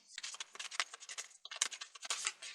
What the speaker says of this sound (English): So I'm just gonna shuffle them quickly.